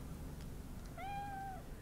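A single drawn-out cat meow inside the video game Cyberpunk 2077, rising clear and tonal over a steady low background hum of game ambience, no talking.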